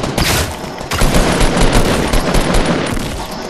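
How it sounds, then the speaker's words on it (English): Rapid automatic gunfire in the Fortnite video game rattles loud and near in dense, overlapping bursts, the shooting running almost nonstop with brief dips and no speech over it. "Someone's shooting something."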